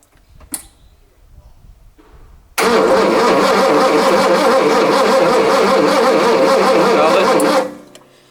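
A Ford XW Falcon engine with its accelerator disconnected cranks over loudly with a steady starter churn for about five seconds, then winds down; faint voices and clatter come before it.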